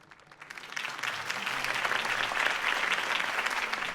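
Steady crowd applause after a campaign speech in Batman: The Telltale Series builds over the first second, then holds as a dense, even wash of clapping.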